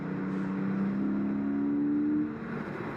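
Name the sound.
sports car engine revving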